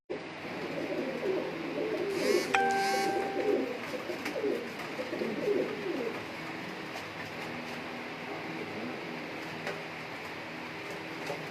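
Rare breeder pigeons coo in a loft in Sheikhupura, with soft repeated throaty coos during the first half, a brief whistle-like tone, and then quieter background noise.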